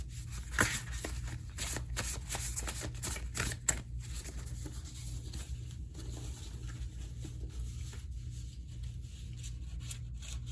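Tarot cards being shuffled by hand: a soft, rapid rustle of riffling and sliding cards with scattered sharper clicks, busiest early on, over a low steady hum and no voices.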